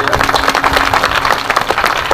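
A kirtan audience applauding, many hands clapping together in a dense, loud burst of applause that holds steady throughout.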